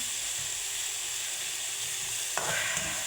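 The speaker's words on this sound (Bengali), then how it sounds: "এটা হচ্ছে আমার কলমি শাক ভাজি।" Water spinach frying with onion and garlic in a pan, a steady bright sizzle that swells briefly near the end as the greens are moved.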